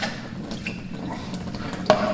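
Water running steadily through a carbon filter in a cave house system, a soft continuous trickle with a brief brighter splash near the end.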